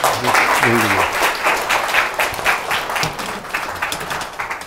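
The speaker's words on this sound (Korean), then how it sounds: "박수 한번 쳐주셔야죠." Audience applause at a consulting lecture, a dense burst of many hands clapping close by that holds steady for several seconds, with a voice heard briefly at the start.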